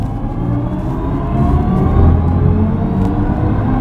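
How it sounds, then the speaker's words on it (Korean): A BMW i4 electric car in sport mode plays its virtual driving sound, created with Hans Zimmer, as a dense, continuous low rumbling hum that swells slightly mid-way, close and loud with no talking. "iX도 그렇고 이 i4에도 그렇고 이 환상적인 사운드 오로지 BMW만 구현을 할 수가 있거든요"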